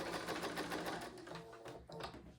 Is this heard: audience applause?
no